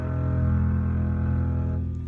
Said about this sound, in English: you go all the way down there with the bow and you pull it across the string so it sounds like this